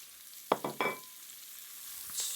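Carrot, celery and onion dropping into a pot with bacon, three quick close clattering hits followed by a faint sizzle that lingers on quietly.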